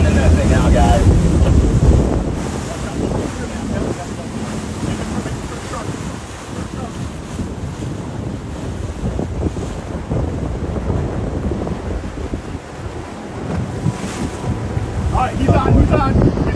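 A runaway boat spins loose on the open water near Sarasota, heard as steady, loud wind roar and rushing water battering the microphone throughout, with waves surging and a faint voice at times.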